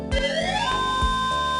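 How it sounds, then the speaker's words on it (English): A shrill siren alarm from the video game Ever17 sounds loudly and continuously, its tone sweeping upward and then holding steady, with low rumbling thumps underneath. "The shrill sound of a siren rang out loudly."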